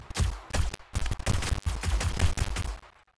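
Rapid bursts of gunfire from a gun in the video game 7 Days to Die, several loud close shots in a quick broken rhythm with short gaps, fading out at the end.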